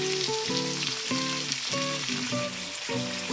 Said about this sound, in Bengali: এগুলো হালকা ফ্রাই হোক, আমি গ্যাসের ফ্লেমটা আবার হাই করে দিলাম।